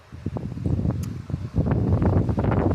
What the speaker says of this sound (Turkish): İşte rüzgar da esiyor zaten